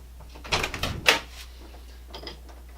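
A newly rehung interior privacy door in a flood-damaged house swings shut, giving a couple of close, brief knocks and a latch click, with a little handling noise afterward.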